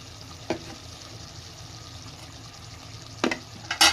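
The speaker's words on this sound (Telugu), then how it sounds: "చికెన్ అదిగోండి ఉడుకుతుంది కదా" Chicken for biryani cooks in a pan with a faint, steady sizzle, broken by a few quick clinks and scrapes of stirring near the end.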